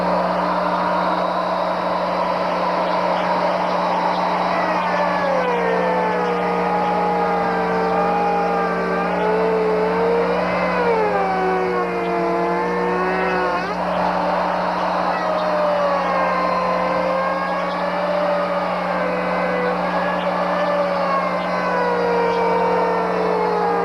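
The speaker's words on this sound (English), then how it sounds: "hit the router down push button, and the router motors will start and they will stroke down" A Triad template stair router's motors start up and plunge down through a stair tread, a loud, steady machine roar that runs throughout with shifting whining tones as the cut proceeds.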